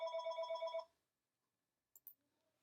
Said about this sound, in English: sorry about that phone